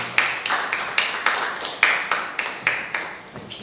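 Crisp, evenly spaced claps ring out in a steady rhythm, about a dozen in a few seconds, welcoming a speaker to the podium. They are close and clear, with no talk over them.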